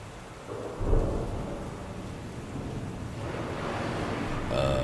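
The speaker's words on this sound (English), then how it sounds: "is the sound of the rain too high?" Steady rain with rumbling thunder fills a continuous indoor ambience at moderate level, with a swell of low rolling rumble near the start and a brighter burst at the very end.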